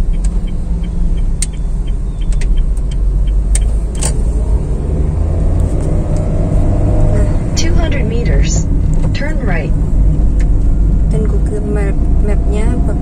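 Honda Mobilio car driving along a road and making a left turn, with a steady low engine and road rumble throughout while someone talks over it.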